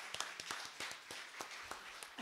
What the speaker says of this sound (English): Let's give those people a nice round of applause.